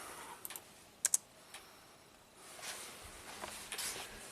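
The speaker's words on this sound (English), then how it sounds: "This one's clicking with the key on." A Hyundai oil control solenoid clicks with the ignition key on, a few sharp close clicks, two quick ones near the middle, over faint background noise and soft rustling later.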